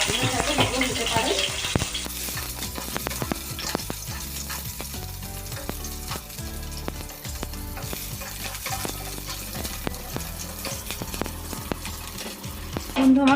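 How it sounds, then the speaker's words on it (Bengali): Sliced bitter gourd frying in hot oil in a kadai, a steady dense sizzle with occasional stirring clatter running throughout, fairly loud and close. "এবার আমি ওই তেলেতে কেটে রাখা করলাটা ভেজে নেব"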